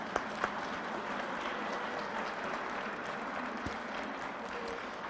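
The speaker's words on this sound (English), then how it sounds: "Oh, yes, we can clap." A congregation at a spiritual gathering claps steadily to welcome a new youth leader, even and sustained applause with a few sharper individual claps standing out near the start.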